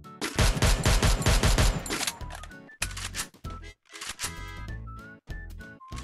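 Rapid automatic gunfire from the Free Fire video game rattles in a loud, fast burst, followed by scattered single shots and short bursts with brief pauses between them.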